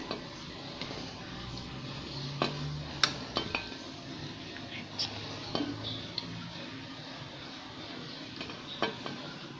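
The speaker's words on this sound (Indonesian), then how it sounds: "Saya akan tuangkan ayamnya satu persatu ke dalam piring" Quiet kitchen sounds as chicken curry is served onto plates: scattered clinks and scrapes of a utensil against dishes, with a soft background hiss, spread unevenly over several seconds.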